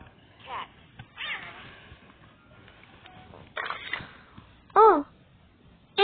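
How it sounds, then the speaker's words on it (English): A short cat meow rises out of a quiet room near the end, brief and fairly close, after some faint murmured talk and soft handling noises. "Cat."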